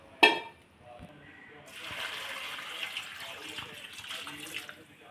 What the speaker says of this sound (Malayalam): ഇപ്പം ഇതെല്ലാം സെറ്റായിട്ട് അരിഞ്ഞ് വെച്ചിരിക്കുന്ന വെജിറ്റബിൾ നമുക്ക് നല്ലതുപോലെ ഒന്ന് 2-3 പ്രാവശ്യം കഴുകിയെടുക്കണം